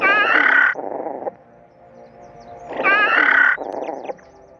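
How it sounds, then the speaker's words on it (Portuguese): Hypsilophodon dinosaur calls in the Roblox game Prior Extinction: two short, squeaky yelping cries, each a shrill shriek followed by a lower raspy tail, separated by a quiet pause, with no talking. "O rugido dele, que eu vou aumentar aqui pra vocês ouvirem."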